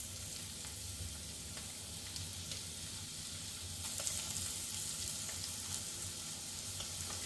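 Thinly chopped onions fry in a pan of oil, giving a steady, dense sizzle that runs unbroken throughout, with a few faint crackles and pops rising over it and no voices.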